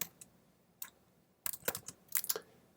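Brief bursts of typing on a computer keyboard, a couple of isolated key taps followed by a quick cluster of clicks, close and fairly quiet against a still room, with no talking.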